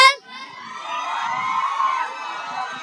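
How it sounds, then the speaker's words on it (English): A ceremony crowd at the 2023 Ebenezer lamp lighting and oath taking event cheers and whoops after a group dance performance, a dense shouting roar of mostly young voices lasting a few seconds. "Let's give them a round of applause, people."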